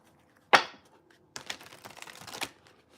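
An elemental alchemy card deck is shuffled in two bursts, a single sharp riffle snap followed by a second, longer flurry of papery card flicks, close and fairly quiet, with no talking.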